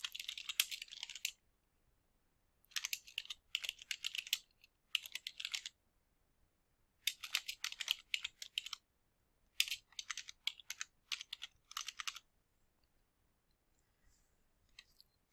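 Bursts of rapid typing on a computer keyboard as a comment is entered, clusters of clicky keystrokes separated by short pauses, close and fairly quiet with no talking.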